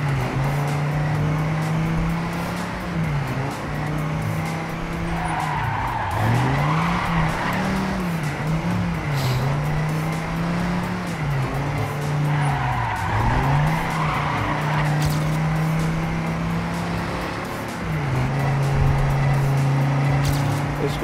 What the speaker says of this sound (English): Hitting the brake, then letting off and sliding around